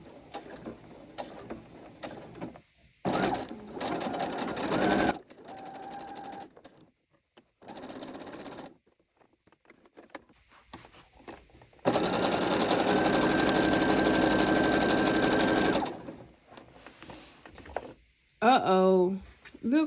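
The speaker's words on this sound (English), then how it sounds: "I am sewing right on the edge of my foot. I'm going to start and we're going to back stitch." Sewing machine stitching along the edge of fabric for a heart-shaped pillow, running in bursts of steady mechanical whirring with a long sustained run near the end, close and loud between pauses.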